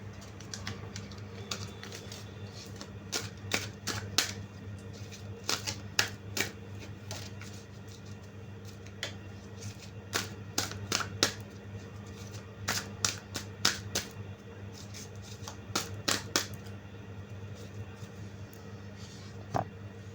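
Tarot cards being shuffled to draw a clarifier card, heard as repeated crisp clicks and riffles in uneven bursts over a steady low hum, close and fairly quiet with no talking.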